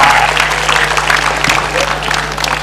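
A crowd at an Indonesian community family-empowerment event breaks into loud, dense applause, sustained clapping over a low steady hum with possible background voices.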